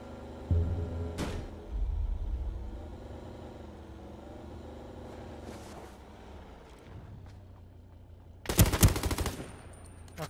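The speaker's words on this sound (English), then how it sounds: "I hear shooting." Gunfire in Ring of Elysium, a battle royale video game: distant bursts of shots over a low rumbling vehicle-like drone, ending in a loud, close rapid volley near the end.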